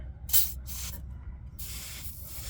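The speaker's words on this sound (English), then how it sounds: "we're gonna put some silicone on the outlet of the turbo right there" Silicone is sprayed onto the turbo outlet of a VW MK4 during an intercooler pipe install, making several short, close hissing spray bursts.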